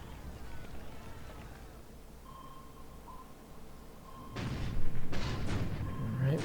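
Naval gunfire in the wartime strategy game War in the Pacific: a low rumbling burst of booms and thuds breaks out after a quiet stretch with a faint steady tone.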